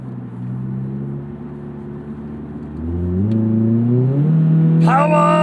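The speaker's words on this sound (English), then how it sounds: "We don't get that many naturally aspirated high revving engines anymore." A 2000 Honda Prelude's naturally aspirated engine holds a steady drone, then revs upward in rising pitch sweeps, climbing sharply to a loud high-revving whine near the end.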